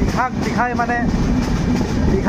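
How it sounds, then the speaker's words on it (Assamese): A goods train rolls past a railway crossing beside maize fields, its steady rumble and clatter continuous throughout, with a few rising and falling tonal calls over the top. "ৰেলটো পাৰ হৈ লওঁ"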